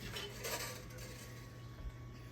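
A fork clinks and scrapes against a bowl while stirring wet ingredients into an orange sugar mixture for cranberry muffins, light scattered taps close by over a low hum.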